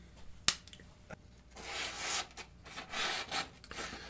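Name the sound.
sharpening a Buck knife on a Lansky Blade Medic sharpener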